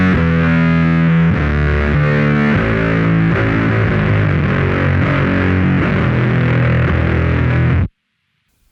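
A bass guitar through a Microsynth effect plays a descending line of synth-like notes that grow lower and muddier, loud, thick and buzzing for about eight seconds before stopping abruptly.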